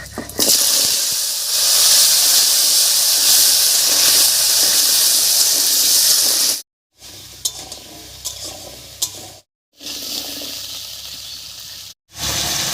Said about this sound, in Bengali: ফোড়নটা ভাজা হয়ে গেছে এবার এর মধ্যে দেবো আলু